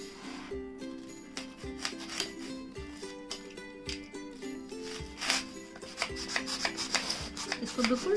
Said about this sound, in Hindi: कटर को डालेगा, अदरवाइज थर्मोकोल जो है वो पूरी तरह से कट नहीं होगा।